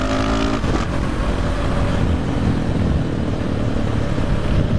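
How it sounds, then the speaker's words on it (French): A 2015 KTM SMC R 690 single-cylinder motorcycle with ABS, engine running close by: a loud, continuous throbbing exhaust rumble that holds steady throughout, with a brief rise in pitch near the start, no talk. "c'est une SMCR de chez KTM, 690, elle est de 2015"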